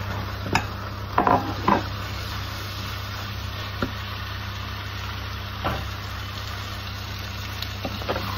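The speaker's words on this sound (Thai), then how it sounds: "ตอนนี้เราก็ใส่เส้นสปาเกตตี้ที่ต้มไว้แล้วเลยนะคะ" Boiled spaghetti is tossed into a minced pork sauce in a pan, with scattered scrapes and clicks of stirring over a constant low hum and a soft background hiss.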